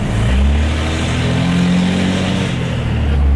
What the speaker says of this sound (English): If you have a Cummins, you should be running a 5-inch straight pipe